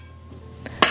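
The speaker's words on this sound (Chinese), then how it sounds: "我把苹果放到盘子里。" Cut apple pieces set down one after another on a plate in an office, giving a soft tap followed by a sharper, louder clink close by, with no talking.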